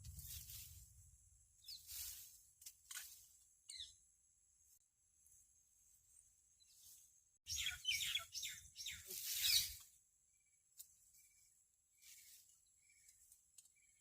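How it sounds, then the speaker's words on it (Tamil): Koels call from mahua trees in scattered bursts of chirping, with a louder flurry partway through over a faint low rumble. "இங்கெல்லாம் இந்த இலுப்பு மரம் இருக்குது. மேலெல்லாம் அந்த குயில் சத்தம்,"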